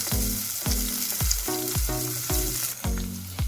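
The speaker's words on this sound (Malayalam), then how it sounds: "അതൊന്ന് ചതച്ചിട്ട് എണ്ണയിലേക്ക് ചേർത്ത് കൊടുക്കുക. ഇനി ഒന്ന് വഴറ്റിയെടുക്കാം." Crushed shallots sautéing in hot oil for snake gourd curry, a loud close sizzle with rhythmic scraping stirs and low clanks of the pan roughly twice a second.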